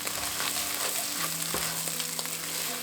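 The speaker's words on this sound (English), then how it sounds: "add the garlic and stir well" Garlic being stirred into onions frying in a pan for French onion soup, with a loud, steady sizzle close up and scattered scrapes and taps from the stirring utensil throughout.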